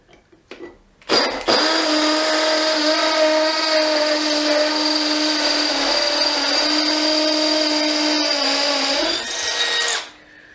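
A DeWalt Atomic DCD709 cordless combi drill bores into a very hard block, its motor whining loud and steady for about nine seconds, with a slight dip in pitch as the bit slips in the chuck, then spins down.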